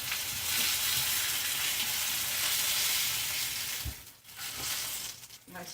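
Pieces of meat sizzle steadily as they brown in a hot pan, a dense crackling hiss. Near the end it briefly drops away, then returns with soft stirring clatter.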